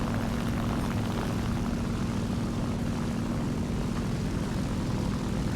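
A propeller plane engine drones steadily in the War Thunder combat flight game, loud and close, a constant buzzing hum with no talking.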